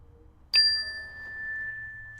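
One clear bell chime signals the next pose in a children's yoga class; a bright strike with a sustained, gently decaying ring against near silence.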